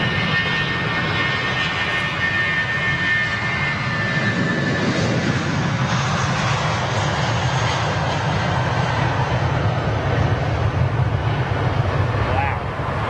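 A Turkish Airlines Airbus A330 jet roars at Heathrow, a loud sustained engine rumble with wind buffeting the microphone, steady for the whole stretch.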